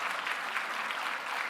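A church congregation at a Christmas service claps warmly and steadily for children who have just received infant baptism, a brief burst of dense applause filling the sanctuary.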